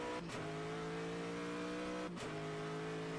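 Aston Martin Vantage GTE race car engine in a racing game at Sebring, a steady high-pitched drone with two sharp dips and revs back up as gears shift, playing alone.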